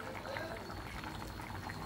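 Chicken boiling in a pot on a stove, a soft continuous bubbling and simmer with faint liquid movement, low in level and steady throughout.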